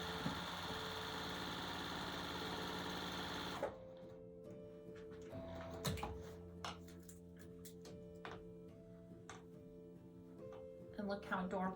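A sewing machine stitches a quilt piece onto a flower block, a steady mechanical whir running for about four seconds before stopping, followed by quieter handling sounds and faint clicks.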